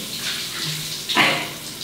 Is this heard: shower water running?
yes